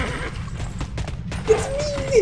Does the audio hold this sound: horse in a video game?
yes